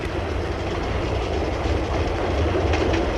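A 1950s Paris metro train rumbles steadily and loudly, with a continuous roar and clattering wheels on the rails and no other sounds standing out.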